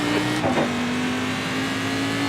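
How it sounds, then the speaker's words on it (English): A Cadillac CTS-V race car in iRacing at Bathurst pulls out of the pit lane, giving a steady engine drone with a short rising rev early on. "There's a car leaving the pit lane."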